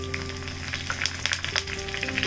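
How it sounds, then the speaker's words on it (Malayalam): Mustard seeds and curry leaves fry in hot oil for a Kerala-style coconut sardine curry, giving a steady close sizzle with frequent sharp crackling pops scattered throughout, and no voices. "അപ്പൊ നമ്മളിവിടെ കടുക് വറുത്ത് മീൻകറിക്കകത്ത് ഒഴിച്ചിട്ടുണ്ട്."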